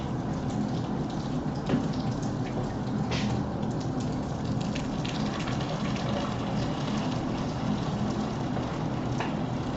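Water pours into a mash tun over crushed grain and rice hulls during all-grain beer brewing, making a steady, close splashing and trickling stream that keeps up without a break.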